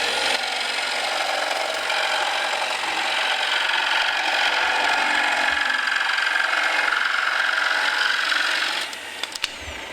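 A jigsaw cuts steadily through wood with a loud, close, buzzing rasp that holds for nearly the whole stretch before winding down and stopping at the end.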